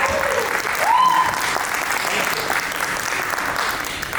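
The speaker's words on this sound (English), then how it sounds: "Please give him a round of applause." Steady applause from a lecture audience at a medical education event on AI ethics in healthcare, even and sustained throughout, with a brief whistle-like tone near the start.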